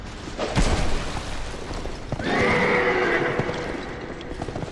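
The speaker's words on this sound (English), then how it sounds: "we got the executioner's horse over here" Executioner's horse in Dark Souls II giving a loud neigh midway, preceded by thumping hoof steps and heavy movement, with clopping continuing afterward.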